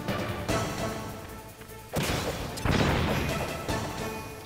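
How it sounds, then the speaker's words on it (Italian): Explosions in the video game Metal Gear Solid, a series of loud crashing blasts in quick succession, each burst followed by a rumbling tail, with no talk over them. "Ha schivato un'esplosione."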